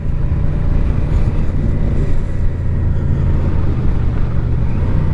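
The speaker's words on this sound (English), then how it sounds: "this is going to be my last ride on the VMAX before I get the carbs cleaned" Yamaha VMAX motorcycle with carburetors due for cleaning, ridden at speed: a steady, loud engine drone mixed with heavy wind rush over the microphone, continuous throughout with no talk.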